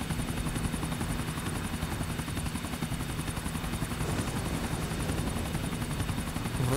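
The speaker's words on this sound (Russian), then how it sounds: "Самолет." An aircraft in Grand Theft Auto IV hums with a steady rotor-like pulsing and a high whine, loud and continuous throughout.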